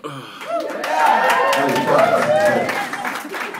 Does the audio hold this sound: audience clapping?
yes